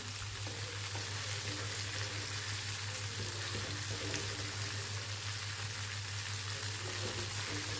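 Pieces of KFC-style chicken deep-frying in hot oil, with a steady, even sizzle and bubbling that holds at a constant level throughout, close up and with no voices.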